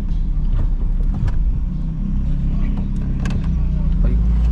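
A 2000 Honda Civic LX with automatic transmission cruising along a road, its steady engine hum and low road rumble filling the cabin continuously at close range, with faint voices in the background.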